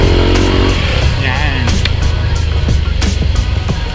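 A Yamaha Aerox scooter fitted with a JVT V3 pipe runs loud and close, its exhaust droning and revving steadily with some rising pitch sweeps while someone talks over it.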